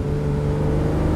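A 1968 Ferrari 365 GT 2+2 "Queen Mary" with a V12 engine from Maranello, heard driving as a steady, loud engine drone with a firm low hum that holds even throughout.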